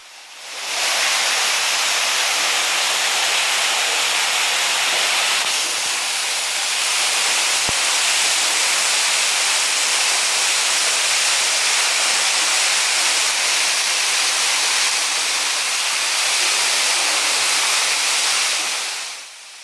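A waterfall inside Cueva Hoyuca pours steadily below a ten-metre climb, a loud, unbroken broadband roar of falling water filling the cave from start to finish.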